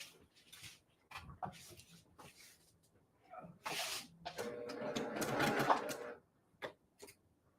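A sewing machine stitches the last seam of a quilt block in short start-stop bursts, then in a longer steady run, close by, with small handling clicks and bumps in the pauses.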